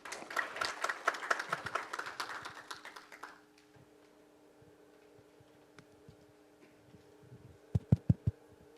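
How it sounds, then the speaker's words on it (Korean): Scattered applause rises from a conference audience at a Gwangju city council policy forum, a few seconds of moderate clapping fading into quiet room tone, followed near the end by several sharp, close taps. "여러분 큰 박수로 환영해 주시기 바랍니다"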